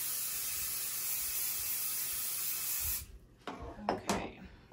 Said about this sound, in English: So now I'm going to spray this with my basting adhesive